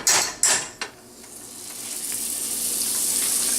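Softened butter sizzles in a hot frying pan, a steady close crackling hiss following a few sharp clatters of the pan at the start.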